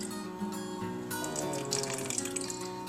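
Red wine vinegar poured into a pot of lentil soup, a continuous trickling liquid stream, close and fairly quiet, lasting a few seconds without speech.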